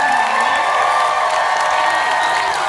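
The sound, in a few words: audience cheering and applause for cosplay contestants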